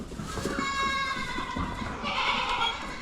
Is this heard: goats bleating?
yes